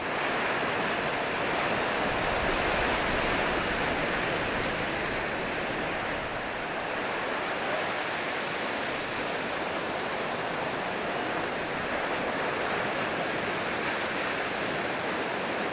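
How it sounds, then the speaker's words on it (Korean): Rough winter sea waves crash continuously onto the sandy beach at Gangneung, a loud, dense roar of surf with broad wash and no clear gaps between breakers. "거친 파도가 끊임없이 모래사장으로 몰아치며 하얗게 부서진다."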